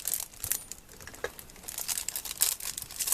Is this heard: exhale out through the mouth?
no